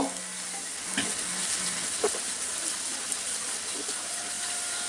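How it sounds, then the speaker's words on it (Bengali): Turmeric powder stirred and fried in a pan over lowered heat for a sweet corn curry, a continuous close sizzle with occasional spatula scrapes and taps. "হলুদের একটু নেড়ে চেড়ে নিব, হলুদের গন্ধটা জাস্ট চলে যাওয়া পর্যন্ত।"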